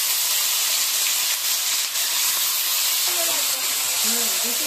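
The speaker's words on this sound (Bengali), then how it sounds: "এবার আমি চিকেনটা তেলের মধ্যে দিয়ে দিচ্ছি।" Chicken pieces dropped into hot oil give a steady broadband hiss and sizzle that runs loud throughout, with faint clinks near the end.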